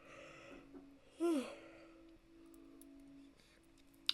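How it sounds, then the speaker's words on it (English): A single drawn-out human yawn, fairly close and soft, rising and falling in one breathy swell over a quiet room hum, followed by a faint click. "I believe one of the medications I'm on makes you yawn a lot more."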